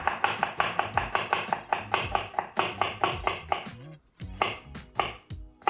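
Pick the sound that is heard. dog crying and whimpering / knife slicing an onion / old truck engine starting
knife slicing an onion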